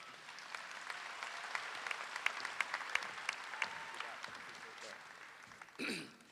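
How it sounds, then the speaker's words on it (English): Sustained audience applause at a university commencement ceremony, dense clapping throughout, loud and steady, ending in a brief swell of cheering. "Please join me in giving a round of applause to President Greg Hylett."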